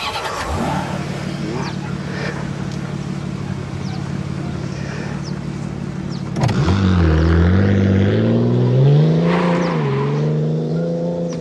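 A car engine idles with a steady hum, then kicks up sharply and revs loud, its pitch rising and falling through several throttle blips close by.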